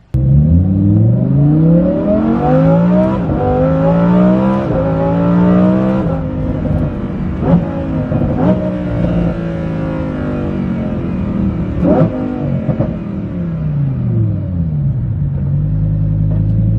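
A Lamborghini Huracan Performante fitted with a Kline-Innovation Valvetronic exhaust revs repeatedly, its deep engine note climbing and falling in several loud, close sweeps with sharp blips between, no voices over it.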